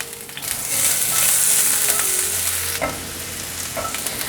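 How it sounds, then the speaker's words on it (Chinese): Celery stir-fried in a wok of sunflower-seed oil sizzles loudly and steadily, with a few short scrapes and clacks from stirring, and no voices. "放入芹菜炒香。"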